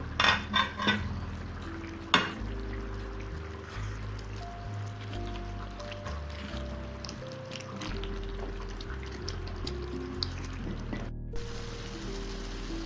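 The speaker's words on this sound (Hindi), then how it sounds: "तो चलिए थोड़ा सा अलट पलट कर देते हैं सब्जी को।" Vegetables being stirred and turned in a handi pot for mixed vegetable curry, with soft scraping and clinks of a spoon against the pot over a steady background hum, no talk.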